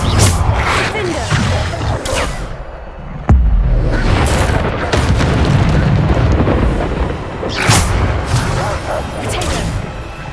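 Loud booming blasts from the Bombarda explosion spell in the video game Hogwarts Legacy, with a sharp, heavy impact about three seconds in, more bursts later, and continuous rumbling combat noise throughout.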